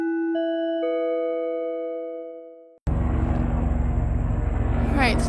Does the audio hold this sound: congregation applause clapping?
no